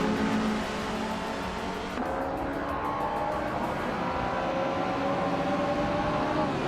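Racing car engines roar together at the start of a video game race at Dijon-Prenois short circuit, led by a 1970 Opel Commodore, a loud, continuous engine drone that rises as the cars accelerate away.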